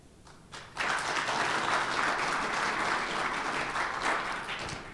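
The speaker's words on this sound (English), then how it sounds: "So, a round of applause if you think the monolith is king." A conference audience bursts into applause after a short quiet lead-in, dense clapping from many hands that holds steady and loud for about four seconds, then begins to thin out.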